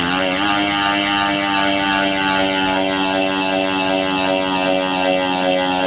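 A Velo Elite TT disc wheel rolling at slow speed gives off a loud, steady droning whir with a layered tonal hum that holds constant throughout.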